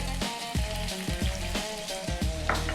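Chopped onion and garlic frying in a stew pot for a mutton stew, giving a steady sizzle with scattered pops and crackles, close and moderately loud, with no talking.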